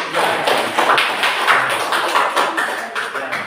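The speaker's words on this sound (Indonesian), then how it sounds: "kita beri aplaus dulu" Applause in a classroom: a dense, steady patter of many hands clapping together, fairly close, with no single clap standing out.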